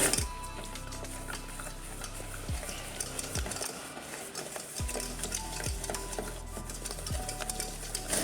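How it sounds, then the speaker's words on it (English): A spoon stirs egg yolk, sugar, corn flour and salt together for vanilla pudding, scraping and clinking steadily against the bowl in a close, continuous rhythm over faint background music. "We'll mix everything together."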